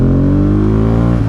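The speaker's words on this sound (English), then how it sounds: "slow pull aways like that are really satisfying because you can hear the engine more go up the RPM range." A Yamaha R7 motorcycle engine hums loudly and steadily from close by as it pulls away slowly, its pitch climbing slightly through the RPM range, with no talking.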